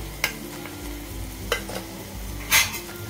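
Spices are stirred into chickpea kadha sizzling in a pan, a steady close frying hiss broken by three sharp scraping strokes of a spoon against the metal, with no talking.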